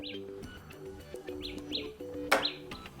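A Samsung Galaxy Buds Pro left earbud sounds its find-my-earbuds alert, a repeated bright chirping tone in short bursts over a soft tonal background, fairly faint and close.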